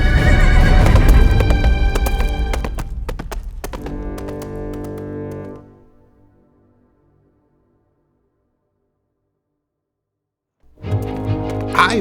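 A horse named Hannibal whinnies loudly close by amid clattering hooves, the sound fading out to silence before another sharp burst of neighing returns at the end.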